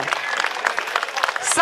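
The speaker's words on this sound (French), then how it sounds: "Une bonne main d'applaudissement, s'il vous plaît" A short burst of applause at a horse pulling contest in St-Isidore-de-Clifton, many hands clapping together in a dense, steady patter.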